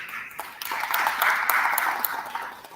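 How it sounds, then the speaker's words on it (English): An audience at an African Union business summit applauds city colleagues, with a brief burst of steady clapping that swells and then holds, fairly close. "so give them a round of applause"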